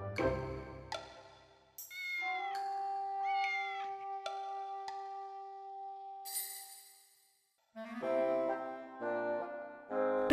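A cartoon kitten meows repeatedly in short, clear cries, some rising and falling, with brief pauses between calls and a longer drawn-out meow in the middle.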